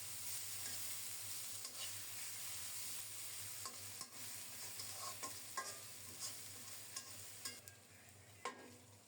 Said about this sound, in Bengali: এখন একটু নেড়ে চেড়ে দিচ্ছি পেঁয়াজগুলো ভাজা ভাজা হয়ে যাচ্ছে